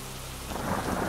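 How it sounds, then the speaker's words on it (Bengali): Steady rain pours down with rolling thunder in a Bengali horror cartoon's stormy night, a dense continuous wash that swells louder toward the end, with no voices. "আবার বৃষ্টি নামলো।"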